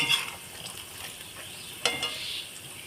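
Soft, low sizzle of chickpea dal (chana dal) frying in a pan, with a few brief scraping stirs; fairly quiet and steady, no talking.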